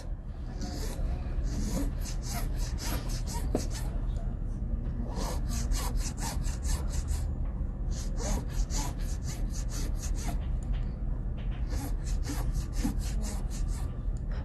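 Close scraping and rasping strokes come in bursts as excess wax is carved away from a heart-shaped wax pendant, with steady background noise and no clear talk.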